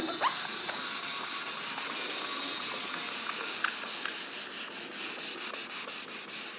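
Writing being rubbed off a board, a steady dry scratchy rubbing that runs throughout at close range, turning into rhythmic back-and-forth strokes toward the end.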